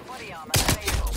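An MP5 submachine gun in Call of Duty Cold War opens up abruptly after a brief lull, firing a loud, close burst of rapid automatic shots, while a player talks faintly in the background.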